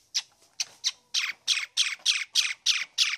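A myna bird gives a rapid series of about ten harsh, raspy squawks in a steady rhythm, close and fairly loud with nothing else around.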